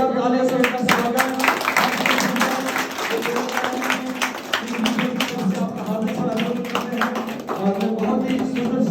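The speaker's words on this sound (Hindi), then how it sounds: "जोरदार तालियों से उनका स्वागत।" An audience claps to welcome a speaker at an event, with steady, dense applause running throughout at close range and a faint voice over it.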